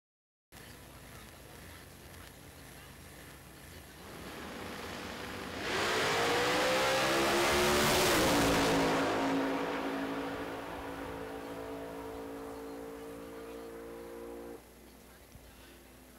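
At NMCA Indy 2011 eliminations on the 275 drag radial class, race cars launch down the drag strip. A steady engine drone builds into a loud, rising roar, then settles into a sustained high whine that fades out.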